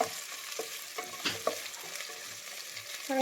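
Ivy gourd stir-fry roasts in a pan over a low flame, giving a soft continuous sizzle with several scraping stirs and light utensil taps, close but fairly quiet and free of speech.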